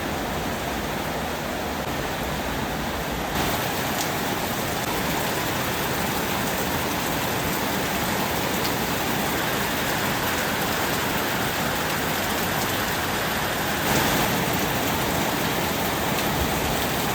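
Steady rain falls outdoors as a loud, dense, continuous wash of drops that stays even and close throughout, with no voices.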